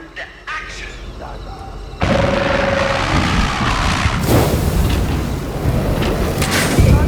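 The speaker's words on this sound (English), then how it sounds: "By timing the explosion carefully for the middle of Bosco's leap, you can take him out in an explosion." A loud, booming blast erupts with heavy rumbling, followed by crackling debris and continued rumble amid game sound effects in Hitman.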